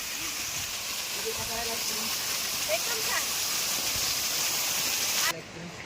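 Continuous hissing rush of a waterfall at Kokan Kada cliff on Harishchandragad fort, with faint voices beneath it, cutting off abruptly near the end.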